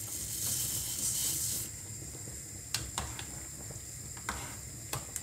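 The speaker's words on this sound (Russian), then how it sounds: "И теперь периодически помешиваю, будем варить 20 минут." A spoon stirs rice porridge with pumpkin and a little sugar in a pot, with a soft steady hiss of cooking and a few sparse scrapes and taps against the pot, quiet and close.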